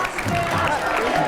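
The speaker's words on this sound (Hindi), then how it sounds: "जोरदार ताली एक बार फिर से कन्हैया जी के लिए।" Audience applause for Kanhaiya Kumar at an exclusive interview event, a dense steady wash of clapping from a crowd that lasts only a moment.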